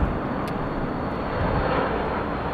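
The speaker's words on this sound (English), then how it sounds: "Airplane." An airplane passes overhead with a steady, broad roar that stays loud and even for a few seconds and swells slightly near the end. No one talks.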